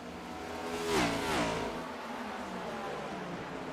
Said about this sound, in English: We're trying to follow Vernon as he comes to pit road.